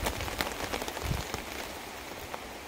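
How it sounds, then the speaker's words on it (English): Heavy rain falls in woodland, a dense continuous patter of drops striking leaves and ground with scattered sharper splats, fairly faint and steady throughout with no voices. "that's really raining."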